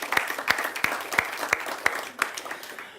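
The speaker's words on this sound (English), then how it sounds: "Can we give Jonathan a huge round of applause?" Audience applause for a speaker named Jonathan, a crowd's clapping overlaid by loud, regularly spaced rhythmic claps about three per second, as if some hands are keeping a beat.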